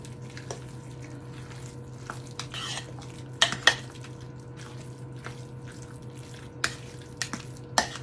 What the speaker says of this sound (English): We're going to stir this up and I'm going to put it on warm in my crock pot